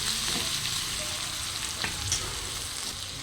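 Onion, garlic and coriander fry in hot oil in a pan while being stirred, giving a steady, loud, broad sizzle with faint scraping throughout and no voices.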